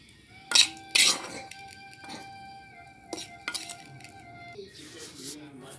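Cooked tempering is added and stirred into a dish, with a few sharp metallic clinks of a spoon against a vessel, soft scraping between them and a faint sizzle at the end.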